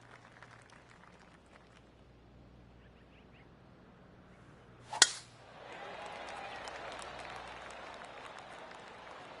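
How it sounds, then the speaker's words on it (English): Golf clap applause in the PGA Tour 2K23 video game: a sharp club strike is followed by steady scattered clapping from a gallery crowd that swells and holds, moderately loud, with no talk. "Oh, golf clap."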